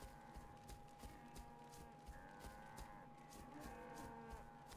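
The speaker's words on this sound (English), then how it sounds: "It's a whole herd of cows." Cows in the video game DayZ low repeatedly from a whole herd, several overlapping drawn-out moos at moderate distance over a murky ambient bed, with faint clopping; no talking.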